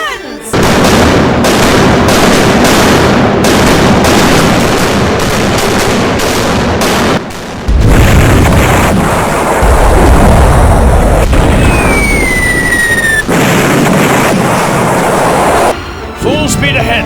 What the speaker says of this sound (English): Fire all guns!